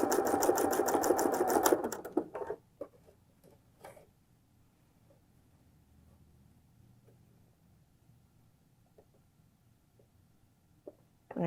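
A sewing machine stitches fold-over elastic binding onto fabric in one fast, close burst of about two seconds. It stops abruptly, leaving faint clicks and handling noises in a quiet room.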